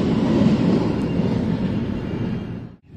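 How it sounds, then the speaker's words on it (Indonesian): A train passing in Portugal: a loud, steady, close rumble that holds throughout, then briefly drops away at the very end. "Tuh, ada kereta api juga."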